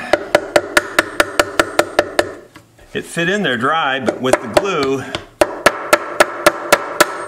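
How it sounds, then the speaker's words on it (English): A hammer taps a glued part into a custom quilted mandolin with a steady run of sharp, evenly spaced knocks. The knocks pause while someone talks, then resume at the same brisk pace. "So we have to go to a real hammer."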